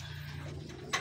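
Racing pigeons coo in soft, low repeated throaty notes at close range, ending with a brief sharp noise.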